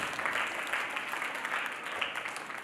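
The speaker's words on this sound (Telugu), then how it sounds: "చప్పట్లు కొడదాం ఒకసారి" Audience clapping at a Vacation Bible School gathering, a dense, steady wash of applause that holds level throughout, heard from within the crowd with no clear voices over it.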